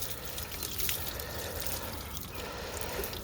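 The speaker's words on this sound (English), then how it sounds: "I'm going to go ahead and grab the water and just give it a nice little rinse" Water poured over a car headlight to rinse it during restoration, a faint, steady splashing trickle lasting a few seconds, with no talk.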